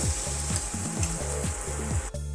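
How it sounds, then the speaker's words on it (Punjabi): Masala with tomatoes sizzles as it roasts in a pan, a steady frying hiss and crackle under a low, patterned humming drone, the sizzle dropping abruptly near the end with no speech. "ਮਸਾਲੇ ਨੂੰ ਆਪਾਂ 2 ਮਿੰਟ ਵਾਸਤੇ ਨੂੰ ਹੋਰ ਭੁੰਨਾਂਗੇ ਜਿਹੜੇ ਟਮਾਟਰ ਚੰਗੀ ਤਰ੍ਹਾਂ ਸੌਫਟ ਹੋ ਜਾਣਗੇ"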